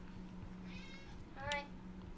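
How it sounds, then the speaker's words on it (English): A pet cat indoors gives two meows, a soft drawn-out one followed by a sharper, brighter short one, fairly near but modest in level over a low steady hum. "What's Poppy meowing about?"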